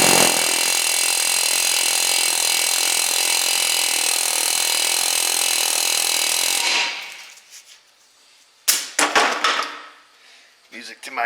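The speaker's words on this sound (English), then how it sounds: "try to just massage around the head of the bolt a little bit with an air hammer" A loud, continuous rapid hammering of an air hammer on a seized brake rotor bolt runs for several seconds, then stops abruptly, followed by a few scattered metallic clanks and knocks.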